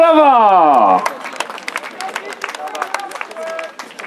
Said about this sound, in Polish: Drodzy Państwo, wielkie brawa dla Marcina!